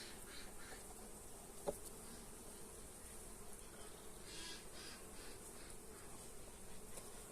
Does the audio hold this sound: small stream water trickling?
no